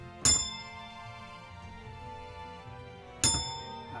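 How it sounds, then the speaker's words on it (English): Passenger bell on a 90-year-old vintage Dennis bus, rung by pulling a rope: two bright, sharp dings about three seconds apart, each ringing out briefly over a steady low engine drone. "if you want to pull the bell, you want to ring the bell, you just pull the string and effectively it does this."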